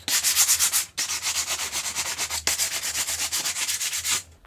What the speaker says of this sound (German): Jetzt noch schnell mit dem Schleifblock oder elektrisch die Kanten brechen.